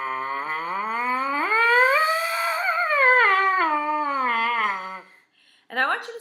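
A trumpet mouthpiece buzzed alone as a siren, one long continuous tone sliding from low up to high and back down over about five seconds, close and loud, followed by a short, sharper buzz after a brief pause.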